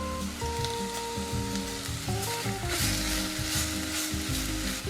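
Carrots tipped into a hot frying pan of beef with bay leaves for an empanada filling, crackling and sizzling steadily and close throughout, with stirring clatter and no talk.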